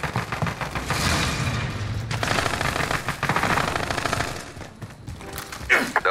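Dense, sustained barrage of heavy gunfire and booming impacts from a precision airstrike run in Call of Duty Warzone, rolling continuously for several seconds with bursts swelling and fading near the end.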